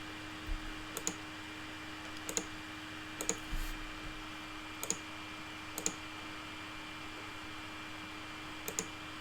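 Sparse, sharp clicks of a computer mouse come one at a time at irregular intervals, roughly six or seven over several seconds, close and fairly faint over a steady low electrical hum.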